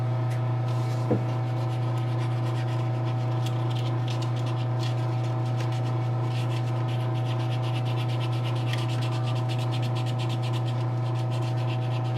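Hand sanding on a plastic model kit: a steady, quiet rubbing texture that runs continuously beneath a strong constant electrical hum, with a single brief tap early on and no voices.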